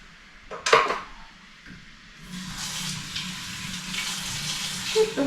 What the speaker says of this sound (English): So let's get these dishes done.